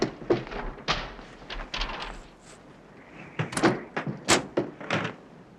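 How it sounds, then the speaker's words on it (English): Knuckles rapping on the front door of an old, long-empty house, heard as a few irregular clusters of sharp, fairly quiet knocks with short pauses between them. "So you think we should knock?"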